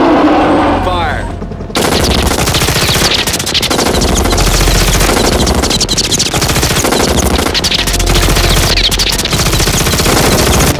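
Sustained machine gun fire in a monster movie rattles loud and continuous for several seconds after a brief opening with a voice, a dense, unbroken barrage of rapid shots.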